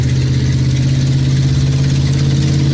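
Loud, steady engine rumble from a 2002 Dodge RAM 1500 pickup truck, a constant deep idle drone held close and unbroken throughout.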